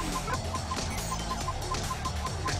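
A bird in a video game honks in quick, repeated calls at an even rhythm over a busy game soundtrack.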